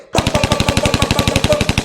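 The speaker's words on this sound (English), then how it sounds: "as soon as he hear the first shot go off and he sees somebody shooting at him" Rapid automatic gunfire in a street shootout, a fast steady burst of about twenty loud, close shots with no pauses.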